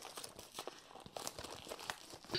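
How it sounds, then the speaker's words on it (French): Close, quiet crinkling and tearing of plastic wrap as a Blu-ray and DVD collector's edition is unwrapped, a steady run of small rustles and crunches with no voices. "Allez, on va déballer l'édition, c'est parti."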